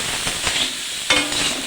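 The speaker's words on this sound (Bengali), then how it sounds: "এখানে ডাঁটা আলু বেগুনের তরকারি হবে, সেই জন্য এখানে সবজিগুলো ভাজছি" Drumsticks, potatoes and eggplant frying in a pan for a vegetable curry, a steady close sizzle with a few soft stirring scrapes and a sharper clatter near the end.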